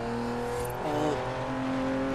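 Engine of an all-wheel-drive rally car with just under 400 horsepower in Forza Horizon 3 rallycross, a continuous tonal drone shifting pitch briefly as it works through a corner.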